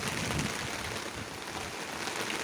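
Morning rain falling outdoors makes a faint, even hiss that runs unbroken throughout, with no voices over it.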